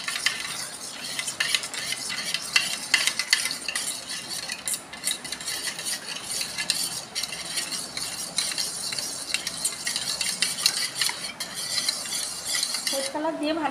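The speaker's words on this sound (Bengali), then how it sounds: "ফুড কালার দিয়ে ভালো করে একটু চামচ দিয়ে ঘুরিয়ে নিলাম, চিনিটা মিশে যাবে।" A spoon stirs food colouring and sugar into a mango ice cream mix in a bowl, making a steady, soft scraping and swishing with light clinks of metal on the container, close and fairly quiet.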